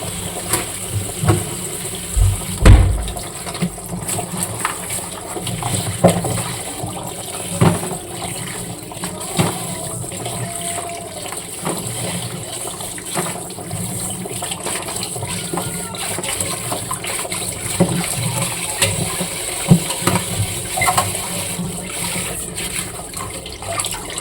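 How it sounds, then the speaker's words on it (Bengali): Green chillies and okra rinsed under running water in a home kitchen, a steady gushing stream with splashes and handling clatter as the vegetables are rubbed and turned. "কাঁচা লঙ্কা ঢেঁড়স নিয়ে এসছি, একটু ধুয়ে নেবো।"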